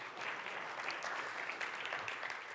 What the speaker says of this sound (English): Just applaud.